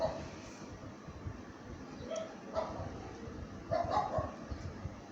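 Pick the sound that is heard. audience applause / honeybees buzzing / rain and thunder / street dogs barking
street dogs barking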